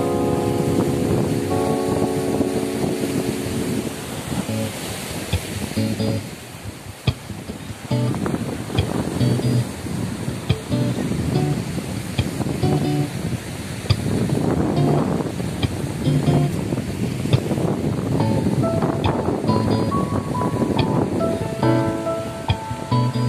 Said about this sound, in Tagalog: nakikita nyo yung dagat ngayon. Galit na galit.